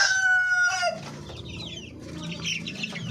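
Darag native chickens on a farm: a rooster's crow opens, followed by busy, close clucking from the flock.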